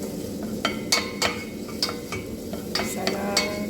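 Onion sautéing in a pan, a soft steady sizzle broken by several sharp clinks and scrapes of a utensil stirring, close and fairly quiet with no talk.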